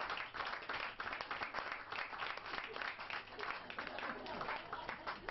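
A theatre audience at a Turkish comedy show applauds in a dense, sustained wash of clapping that holds steady throughout.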